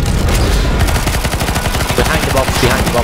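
Loud, relentless automatic gunfire fills a CS:GO Zombies match, with rapid overlapping shots forming a dense continuous barrage throughout.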